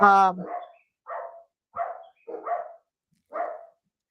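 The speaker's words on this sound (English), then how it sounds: "Sorry, those are my dogs." Dogs bark five times in a loose, uneven series from inside a home. The barks are moderately loud and separated by short silences, with a brief tonal sound just before the first one.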